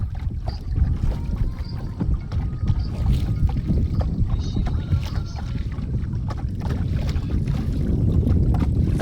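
A boat travels along the wide Bishkhali River near Jhalakathi in strong wind, with steady low rumbling water and wind buffeting the microphone throughout, loud and continuous.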